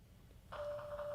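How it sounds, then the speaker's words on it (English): A phone starts ringing partway through, a single steady electronic tone that sounds faint and quiet after a moment of near silence. "Oh, my phone is ringing."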